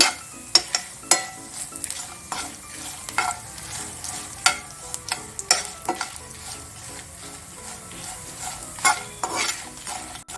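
Cumin seeds frying in a hot pan for garlic chutney, a steady sizzle broken by frequent scraping stirs, close and fairly loud with no talking.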